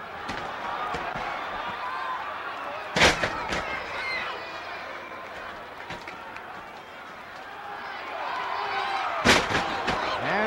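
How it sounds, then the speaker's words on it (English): Heavy body slams thud onto a wrestling ring mat during a 1963 NWA World Title two-out-of-three-falls match, two loud impacts about six seconds apart, over a steady crowd roar. "And they take turns at body slams."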